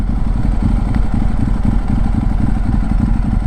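A Ducati 1098 superbike engine runs in first gear, loud and close, with a rapid throbbing, clattering low rumble that holds steady for a few seconds and no talk over it.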